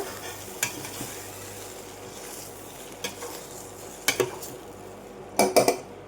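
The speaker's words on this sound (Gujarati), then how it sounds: "જુઓ, આવી રીતે આપણે વઘાર કરી લેવાનો છે." A spice tempering (vaghar) sizzles for Surati vati dal khaman, with quiet frying under clinking of a metal spoon against a pan and a few sharper clatters near the end, no talking.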